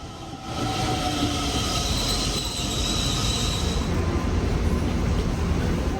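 Korail ITX-Saemaul train at Daejeon station, rolling steadily with rumbling wheels and a faint squeal, sustained and fairly loud throughout with no talk.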